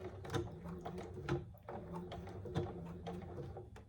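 A sewing machine back stitches to finish a bag seam, its needle thumping in a quick even rhythm with regular accented strokes, fairly quiet and close.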